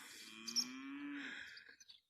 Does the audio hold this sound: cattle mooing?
yes